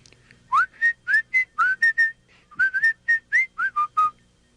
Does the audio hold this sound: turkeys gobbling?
no